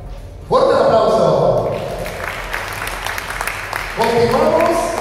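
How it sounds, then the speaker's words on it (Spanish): Applause from the audience at a beauty pageant final in El Salvador, dense clapping that swells in suddenly and continues steadily, loud and close, while an announcer speaks over it; clapping surges again near the end. "Fuerte el aplauso."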